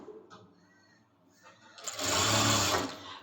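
A sewing machine stitches lace onto a curved fabric edge, a short buzzing run near the end after a quiet pause, with faint speech at the start.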